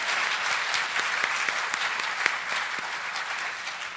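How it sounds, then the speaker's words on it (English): Audience at a school district celebration of excellence applauds, a dense, steady clapping from a crowd filling the room throughout, loud and continuous with a few sharper claps standing out. "How about a round of applause for yourselves?"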